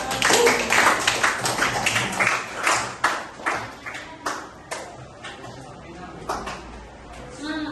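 Classroom applause for a student's answer: many hands clapping in quick, uneven bursts throughout, fairly close, with a voice talking over it.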